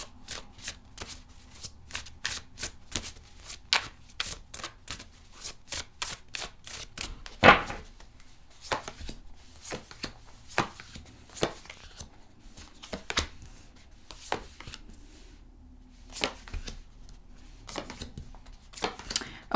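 Tarot cards shuffled by hand in a quiet room: a long run of crisp, rapid riffles and flicks with brief pauses, close and fairly soft, with one louder snap partway through and no talking.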